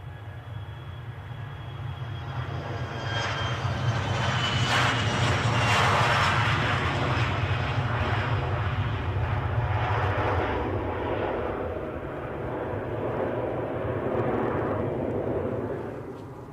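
An EasyJet airliner on final approach at Edinburgh airport roars steadily overhead, its engine drone swelling to a loud peak and holding as it passes close, with no talk.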